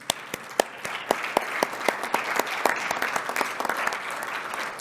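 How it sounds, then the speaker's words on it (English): Applause for a discussion panel at the close of a talk event, starting with a few separate claps that quickly build into steady, moderately loud clapping from a seated audience. "join me in a round of applause to our panelists"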